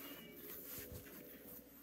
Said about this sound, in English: What's that cat doing?